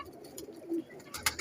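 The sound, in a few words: male breeder pigeon cooing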